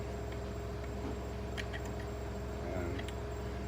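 A truck engine idles in a cold garage while warming up, a low steady hum that stays constant and fairly faint, with a few small clicks and taps from nearby work.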